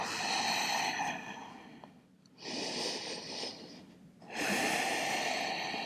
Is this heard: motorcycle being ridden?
no